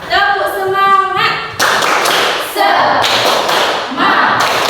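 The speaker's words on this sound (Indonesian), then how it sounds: "Tepuk semangat." A group plays the tepuk semangat clapping game in a classroom, sharp rhythmic claps in quick bursts following a short sung or chanted voice line at the start.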